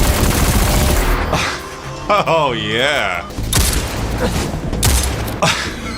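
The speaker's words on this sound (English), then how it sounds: "There's a ton of guns for you to find in Destiny 2, and each of them seems to have an amazing, unique sound." Rapid bursts of weapon fire from Destiny 2, loud and close, with sharp repeated shots stacked into a fusillade, broken midway by a spoken exclamation and a short musical or vocal swell before firing resumes.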